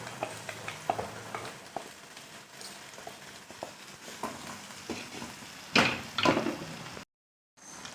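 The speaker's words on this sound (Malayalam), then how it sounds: "നന്നായി ഫ്രൈ ചെയ്യുക." Crab pieces and masala frying in a pan for a mild crab curry, with stirring scrapes and soft sizzling close by, a louder burst of clatter near the end before a brief silence.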